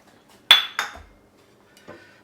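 A bowl set down beside a Beswood 250 deli meat slicer during disassembly: two quick, close clinks of dishware a moment apart, then a softer knock after a pause.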